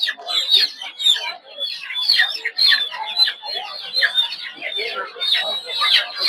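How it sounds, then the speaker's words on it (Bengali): Guinea fowl chicks at a poultry market in Narsingdi keep up a dense, continuous chorus of high, shrill peeping, many birds calling at once, close by and fairly loud. "এখানে দেখতে পাচ্ছেন ছোট ছোট মুরগির বাচ্চা, এগুলো হচ্ছে তিতির মুরগির বাচ্চা"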